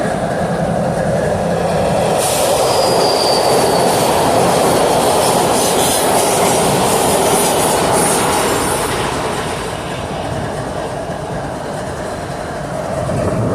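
An autorack freight train begins rolling along a junction track, a steady loud rumble of railcars with wheel squeal and clickety-clack building and then easing slightly, with no voices.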